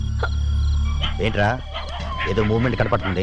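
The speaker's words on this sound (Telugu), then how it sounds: "కుక్కలు అరుస్తున్నాయి" Dogs barking at night, short sharp barks and yips scattered through the clip under steady background hum, with people talking over them.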